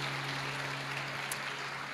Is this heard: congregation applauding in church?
yes